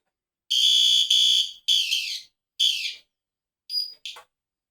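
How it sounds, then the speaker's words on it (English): A System Sensor P2R fire alarm horn strobe under test sounds loud, shrill, close blasts, two long ones and then shorter broken bursts, with no talk over them. "let's test the operable fire alarm device, the notification appliance"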